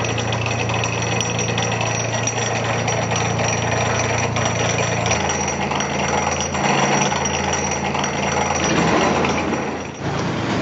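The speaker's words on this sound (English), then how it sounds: "it sounds like an old tractor." Vintage letterpress printing machine in a print shop running with a rough, chugging mechanical rumble like an old tractor, steady and close, with a faint metallic clatter and a shift in tone partway through.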